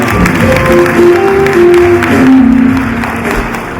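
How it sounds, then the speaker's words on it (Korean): A crowd at a Korean political party's provincial founding convention applauds a party leader being introduced, broad clapping blended with tonal music or a sustained held tone, loud and steady, easing slightly toward the end. "박수 보내주십시오"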